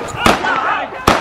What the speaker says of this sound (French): Il sort un flingue et il tire en l'air.